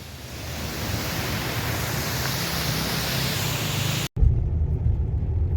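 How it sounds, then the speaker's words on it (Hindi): A mountain stream rushes below the peaks in Nepal, giving a steady, dense broadband roar of flowing water that cuts out for an instant near the end and then resumes just as full. "नीचे कल कल बहती हुई पानी की जलधारा"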